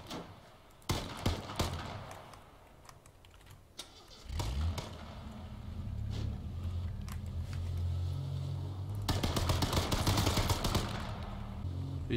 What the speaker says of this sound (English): He's shooting somewhere in front of me.